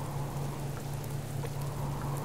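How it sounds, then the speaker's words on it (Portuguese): Steady rain in the video game Subsistence falls as a dense, even hiss with a low constant hum beneath, unbroken and moderately quiet throughout. "Vamos debaixo de chuva mesmo."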